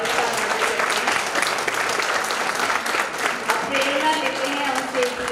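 Loud, sustained audience applause at an international yoga and neuroscience conference, with dense clapping filling the hall throughout and faint voices and a few tonal sounds underneath.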